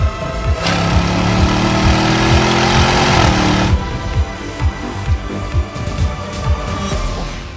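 A 2023 Land Rover Defender 90 V8 revs hard and loud, with rising engine tones under a dense roar that then settles into a rumbling cruise with repeated low thumps.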